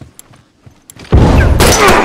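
A grenade goes off in The Last of Us Remastered multiplayer: after near silence with a few faint ticks, a sudden loud blast hits and its heavy, rumbling roar carries on for about a second.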